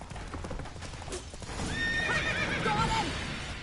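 Roach, Geralt's horse in The Witcher 3, gallops with rapid rhythmic hoofbeats that swell louder, and a whinny rises over them near the end.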